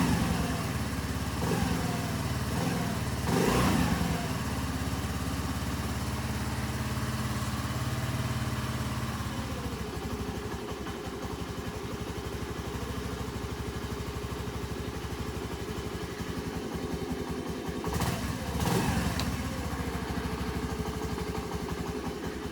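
Honda Navi scooter running on a cold start, its small engine idling steadily with a rough, uneven putter, and a couple of brief louder revs or knocks along the way.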